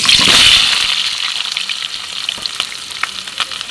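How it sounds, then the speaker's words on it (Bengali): A loud, bright crackle of boiled potatoes frying in hot white oil in a kadai, strongest at first and then settling into a steady sizzle with small pops. "এবার আলুটাকে ভেজে নেবো দেখো কড়াইয়ে তেল দিয়ে দিয়েছি"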